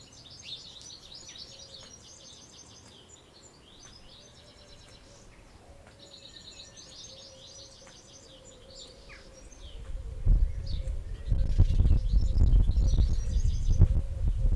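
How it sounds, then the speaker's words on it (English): Small birds chirp and twitter repeatedly in a garden, bright bursts of song coming in clusters, later joined by louder rustling and handling noise close by, with no one talking. "lot of tweety birds in this garden"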